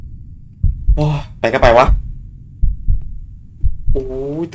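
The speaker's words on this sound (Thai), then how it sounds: "ตึกๆเสียงหัวใจแบบนั่นแน่นนั่นแน่นนั่นเลย" Heartbeat sound effect from the horror video game The Lost Fear, a slow series of deep, muffled thumps repeating beneath a player's excited speech.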